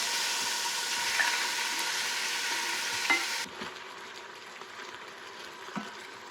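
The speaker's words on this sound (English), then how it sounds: "So I'm gonna put in just about half of it at a time, and we're gonna brown it in batches." Beef sizzles as it browns in batches in an Instant Pot for Guinness beef stew, a steady bright frying hiss with occasional stirring clicks that drops noticeably quieter partway through.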